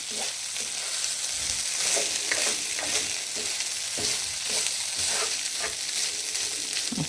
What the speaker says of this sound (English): we're going to toss again. Remember, we don't want the rice to burn, so I'm going to keep tossing